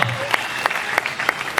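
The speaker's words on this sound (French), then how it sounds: "On applaudit." Wedding guests applauding the bride's father at a customary and civil ceremony, a brief loud burst of crowd clapping with sharp individual claps standing out.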